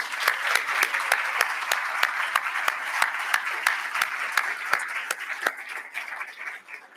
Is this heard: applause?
yes